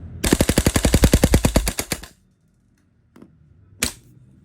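A VFC URGI carbine gas blowback airsoft rifle fires a loud, rapid full-auto burst of about twenty close shots, then a short silence and two sharp clacks.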